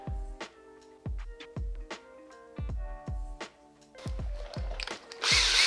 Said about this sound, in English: I have to drill it to the size of the switch.